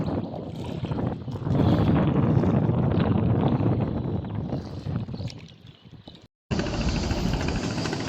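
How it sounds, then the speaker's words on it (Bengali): Strong wind on a riverbank in the afternoon, a loud rushing buffet across the microphone that eases off and briefly cuts out before gusting back in. "এই যে নদীর পাড়ে কি সুন্দর বাতাস।"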